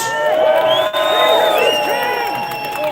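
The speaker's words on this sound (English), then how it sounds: "Big round of applause for Nick Voss." Crowd at a Britain First street rally in Manchester cheering and whooping, loud and close, with shouted voices filling the whole stretch rather than distinct handclaps.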